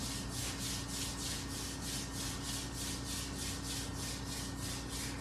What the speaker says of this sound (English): So we start rubbing our hands.